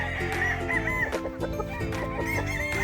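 Gamefowl of the Sweater Gilmore line at a game farm crow and cluck in overlapping calls, loud and close, one rooster's crow standing out over the others.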